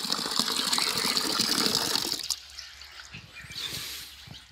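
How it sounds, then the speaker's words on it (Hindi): Water gushes steadily into a small container in a village setting, a loud continuous pour that stops abruptly after about two seconds, followed by quieter dripping and sloshing sounds. "पानी मैंने पिला लिया है और ये तांबिया फुल हो रहा है"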